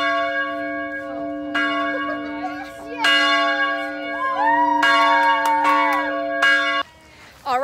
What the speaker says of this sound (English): now that we have rung the bell